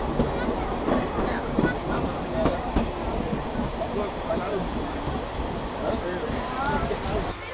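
A Kiha 47 diesel local train runs with its doors open, producing a steady broadband rumble and rushing wind with occasional rattles and clicks, fairly close and continuous throughout.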